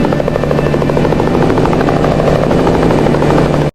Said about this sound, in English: a first-person helicopter flying straight through this gigantic natural tunnel in the mountains